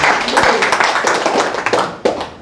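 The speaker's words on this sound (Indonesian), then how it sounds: "Berikan sorak-sorai buat Tuhan." A church congregation claps in a burst of scattered, uneven hand claps, close and fairly loud, mixed with voices and cheering.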